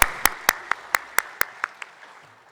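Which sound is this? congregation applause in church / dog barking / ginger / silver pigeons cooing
congregation applause in church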